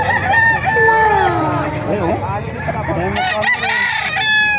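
Several roosters crow loudly and close by, their long calls overlapping, with a brief spoken word and some clucking mixed in.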